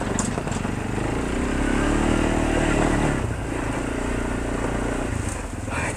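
A quad bike engine roars up close, swelling as the throttle opens and then settling back to a rough, steady growl.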